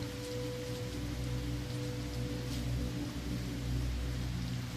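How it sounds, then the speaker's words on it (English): Steady, constant rain patters down evenly throughout, a soft continuous hiss with a low rumbling undertone and no voices. "as those restful, constant sounds of the rain continue to fall"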